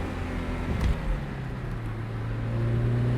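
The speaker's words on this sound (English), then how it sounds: "Really nice and willing engine." A Porsche 924S engine drones steadily from inside the moving car, a low, even hum that builds slightly in strength toward the end, with no talking over it.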